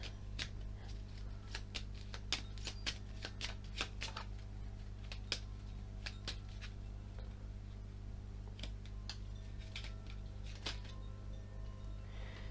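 Tarot cards are shuffled by hand in repeated crisp riffles and flicks, close and quiet over a low steady hum, with no talking.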